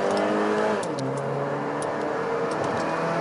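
A modified Honda Civic's loud aftermarket exhaust revving, engine pitch rising and dropping in quick throttle blips, close by with no talking.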